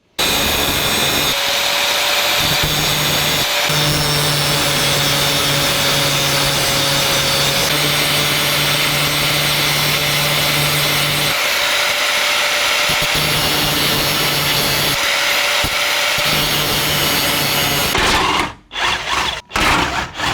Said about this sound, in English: So I'm gonna clean them up a little bit with a cutoff wheel, just to clean up those edges a little bit